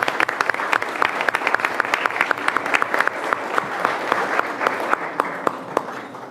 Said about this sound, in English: So again, round of applause to the kids.